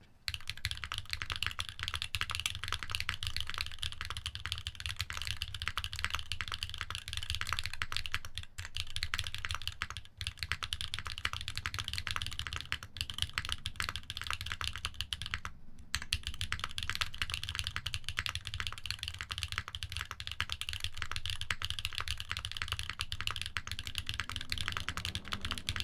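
Fast, continuous clicking of typing on a computer keyboard, close and loud, with only a few very short pauses over nearly half a minute.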